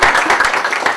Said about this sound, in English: It's always good when the audience claps at the beginning